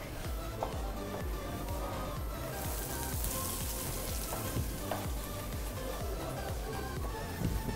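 Chopped onion goes into a pan over pine nuts and gets stirred, producing a steady close-up sizzle and crackle of frying that runs evenly throughout with faint scraping of the utensil.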